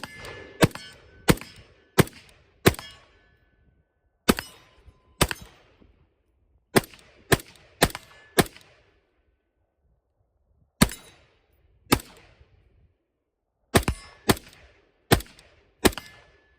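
A rifle fires .223 55-grain rounds outdoors, loud sharp reports in irregular bursts of two to four with pauses between, each shot ringing briefly; no talking.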